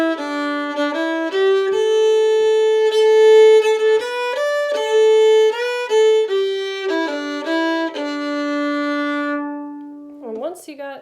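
A solo fiddle plays the basic Handsome Molly melody in clear, bowed notes of shifting pitch at a moderate pace. The line fades near the end and a brief sliding sound follows.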